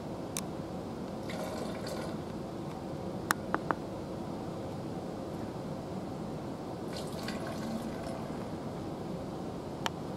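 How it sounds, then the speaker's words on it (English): Sodium iodide glugs from a container into several bottles during an elephant toothpaste chemistry demonstration: a soft, steady liquid pour with a few sharp glassy clinks scattered through it. "we'll go ahead and pour a glug of that in each one of these bottles"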